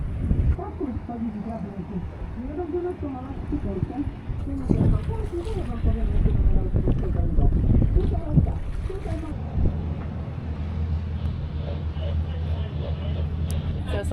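A sailboat at sea off Kefalos, Kos, moves through gusty wind with a low rumbling rush of wind and water, while someone talks over it throughout and motorboats pass with a steady engine drone.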